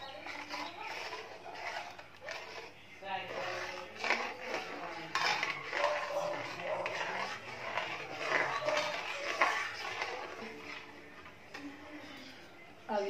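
A spoon stirs a besan curry mixture with turmeric and salt in a pan, scraping and clinking continuously against the metal at moderate volume, with some faint background sounds.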